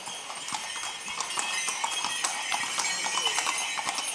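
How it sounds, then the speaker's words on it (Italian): Horse hooves clip-clop steadily in an outdoor religious procession for the Madonna delle Grazie in Ilbono, Sardinia, a continuous rhythm of sharp, fairly close strikes over a busy crowd background. "intanto vediamo inquadrato il cavallo di cui parlavamo"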